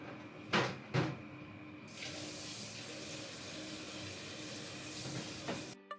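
Running water pours steadily into a kitchen sink while dishes are washed, a continuous close rush broken early by a couple of louder splashes, with no one speaking.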